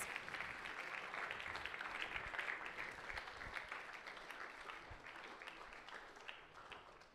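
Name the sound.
applause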